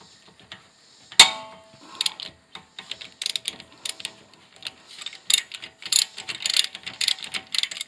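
Ratcheting clicks from a 14 mm socket wrench loosening brake caliper bolts on a Scion iM rear brake, beginning with a sharp clack, then rapid bursts of close metallic ticking, moderately loud, with no talking.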